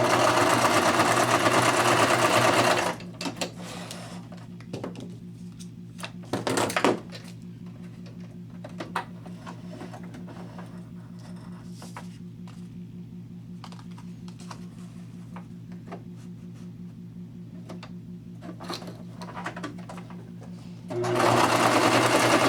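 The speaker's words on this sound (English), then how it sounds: "I just did a straight stitch all the way down." A sewing machine runs a straight stitch down a paper card. Its steady, fast mechanical whirr and needle chatter hold at an even level for most of the stretch, bracketed by louder bursts of motor noise at the start and end.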